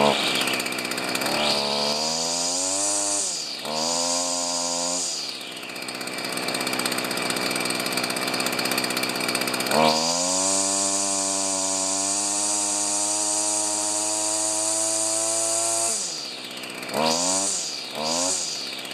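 A Stihl FS45 two-stroke string trimmer under repair starts up and runs close by, its engine whining as it revs high, dropping back to idle, then revving again in several bursts.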